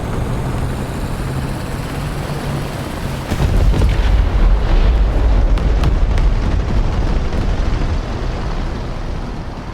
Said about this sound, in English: Yeah, I definitely hear a tank.